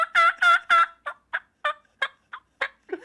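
A human voice imitates a wild turkey, gobbling in three loud bursts and then a string of shorter clucks and yelps, like a flock of turkeys chattering among themselves.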